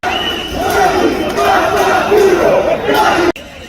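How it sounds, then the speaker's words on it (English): A massive protest crowd in Italy chants in unison, loud rhythmic voices rising and falling across a huge outdoor gathering before cutting off abruptly. "They are now calling out Mario Draghi, their interim dictator, former global banker"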